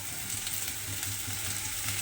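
Onion and potato frying in a pan for a chira (flattened rice) dish, a soft, steady sizzle with faint crackle throughout, heard alone at low level.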